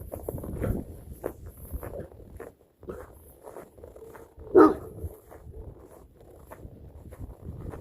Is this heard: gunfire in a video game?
no